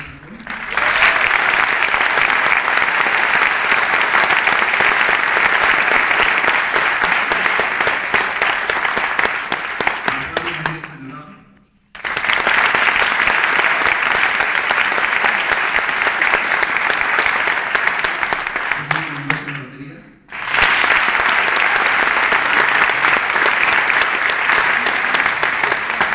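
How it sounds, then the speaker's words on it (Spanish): An audience gives a teacher loud, sustained applause in three long bursts, each fading out briefly before the clapping resumes, with a few voices heard in the short gaps. "Un aplauso muy fuerte para nuestro maestro."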